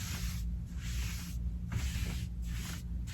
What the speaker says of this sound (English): you can spray all this middle section